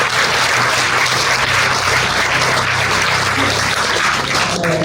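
Sustained audience applause at the 26th Pelmo d'Oro award ceremony in July 2024, dense and steady clapping from a crowd throughout, loud and close with no voices over it.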